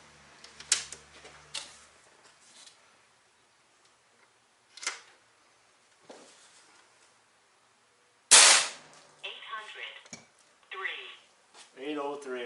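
Several sharp air rifle reports from an AEA .357 at 4500 psi firing 140 grain slugs, a few well-spaced cracks with one loud nearby shot late on, separated by quiet gaps and brief handling noise.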